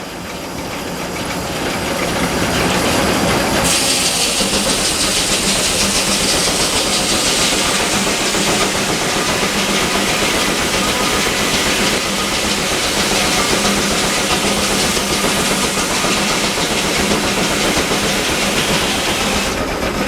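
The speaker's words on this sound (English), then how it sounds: "That steam engine sounds healthy." A steam engine runs at a large gas and steam show in Maryland with a loud, continuous hissing and mechanical roar that swells in after a few seconds and holds steady, with no talking.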